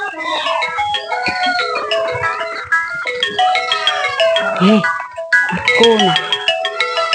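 A melodic electronic phone ringtone chirps in quick bright note patterns, looping loudly for several seconds with a short break, a voice speaking briefly over it.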